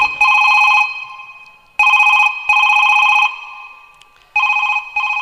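Telephone bell ringing in bursts for a comedy sketch about a ticket inspector calling the head clerk: loud, close electronic rings in four separate bursts with short gaps, no talk over it.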